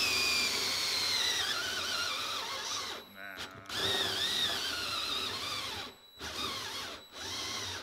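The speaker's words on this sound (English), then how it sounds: "we're going to drill through." A cordless drill whines at high speed as it bores through a hard plastic water tank, with its pitch shifting under load and a few brief pauses between bursts.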